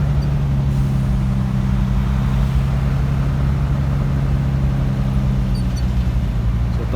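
Road traffic in Davao City, a steady loud rumble of idling and slowly moving car, truck and bus engines, close by and continuous without pause.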